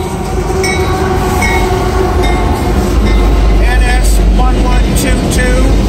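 A CSX southbound freight train passes close by in a loud, continuous rumble and roar, with metallic squeals and wheel noise over the steady drone.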